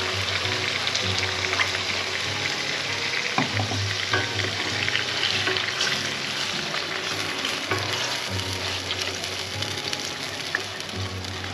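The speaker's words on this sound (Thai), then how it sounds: "ไม่ต้องผัดนานเพราะเครื่องแกงเขาสุกไปแล้วหอมไปแล้ว" Massaman curry paste stir-frying in a pan over low heat, a steady dense sizzle and crackle throughout with occasional scrapes and taps of a utensil, close and continuous.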